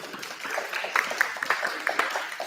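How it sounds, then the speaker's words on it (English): A small audience at a fall community meeting of the Maple Leaf neighborhood gives a round of applause: faint, steady clapping that runs unbroken for a couple of seconds, with a few scattered sharper claps. "Can you give all a big round of applause?"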